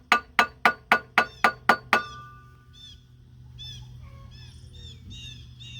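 Eight sharp metallic taps in a steady rhythm, a dead blow screwdriver used as a hammer on metal up close during timing chain replacement on a 1991 Cadillac, then faint clinks and bird calls in the background.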